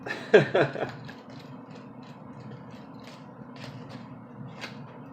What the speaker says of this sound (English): Real-time axle removal.